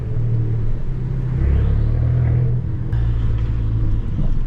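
A small 1.4-litre petrol car engine rumbles steadily with a deep, throbbing, tractor-like low tone, close by and continuous, like an idling or slowly driven vehicle.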